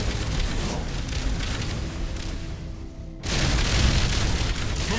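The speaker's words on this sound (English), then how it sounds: "Initiate Thunderhawk bombardment" Thunderhawk bombardment explosions in the space battle game Battlefleet Gothic, Fist of Iron against Orks: a loud, continuous wall of rumbling booms that dips briefly, then surges back heavier.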